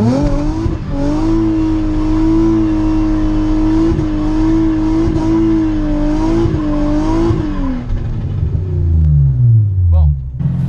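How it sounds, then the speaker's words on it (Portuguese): A car does a burnout while moving, its engine roaring and holding steady revs, then easing off and dropping away near the end, loud and close with no talking over it. "Esse foi o burnout em movimento."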